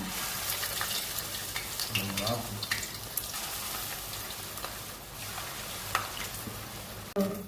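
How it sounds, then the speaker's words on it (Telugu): Bottle gourd chips made with rice flour sizzle steadily in hot oil, a dense close frying crackle throughout, with a brief clatter near the end. "ఆయిల్ వేడెక్కిందండి. ఇప్పుడు ఇందులో మనం ఈ చెక్కలు వేసుకున్నాము."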